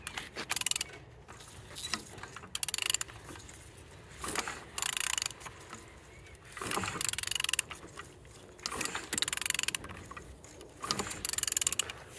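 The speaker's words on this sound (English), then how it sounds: "All turning good, all compression complete." A Z13DTH diesel engine being turned over by hand for a compression check, with repeated ratcheting mechanical bursts of several seconds each, separated by short pauses, close and moderately loud.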